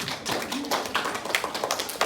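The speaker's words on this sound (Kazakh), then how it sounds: "Жақсы, сонымен шапалақтап қоямыз" Audience applause at a school Kazakh-language quiz contest, a brief burst of scattered hand claps from a small crowd, close and fairly loud.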